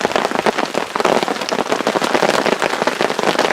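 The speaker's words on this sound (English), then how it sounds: "it's hailing. In fact, you may have a problem hearing me because it's rather loud hitting the tarp." Hail drums hard and continuously on a camping tarp in the Pecos Wilderness, a dense, loud, close patter of countless rapid impacts with no pauses.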